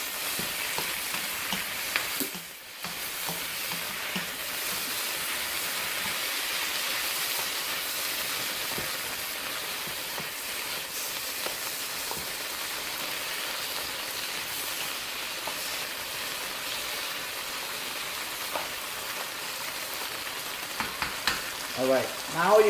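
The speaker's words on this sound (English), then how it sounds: "you're going to add your tomatoes" Tomatoes and mushrooms frying together in a pan for a vegan Peruvian lomo saltado stir fry, giving a steady, close sizzle that holds at an even level throughout, with a brief dip early on and no talking.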